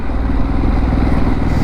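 A Harley Davidson Pan America 1250 motorcycle is ridden on the road from Mumbai toward Pune, its engine a loud, steady, close rumble mixed with wind roar.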